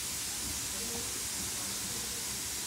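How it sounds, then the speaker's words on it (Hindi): A household pressure cooker whistle lets out a steady, broad steam hiss that carries on without a break. It sounds somewhat distant and muffled, as if from another room. "कुकर की सीटी बज गई मेरे घर की"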